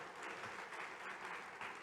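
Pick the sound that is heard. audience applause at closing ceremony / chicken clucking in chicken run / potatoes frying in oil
audience applause at closing ceremony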